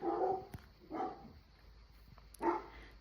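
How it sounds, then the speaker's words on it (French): A dog barks in three separate bursts, distant and fairly faint, with quiet background between barks and no talk. "il y avait les chiens qui aboyaient"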